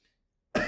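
A single sharp cough bursts out close and loud after near silence, from a man filming a cinema vlog.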